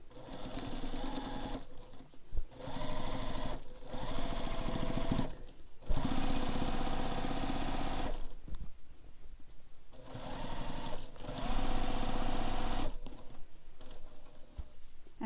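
Sewing machine stitching straight across a backpack, running in loud sustained rattling bursts of a few seconds each, separated by brief pauses.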